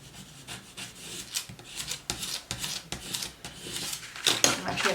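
Vinyl decal being rubbed down onto a mug with a scraper, heard as repeated short scraping strokes at close range in a loose rhythm, some of them louder.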